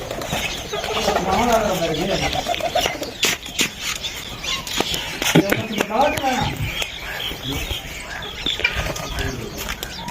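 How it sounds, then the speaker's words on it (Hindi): Pigeons coo and flutter their wings nearby amid muffled voices and scattered clattering. "ये देखिए इनके कबूतर, ये इन्होंने कबूतरों के लिए अपना वो घर बनाया हुआ है"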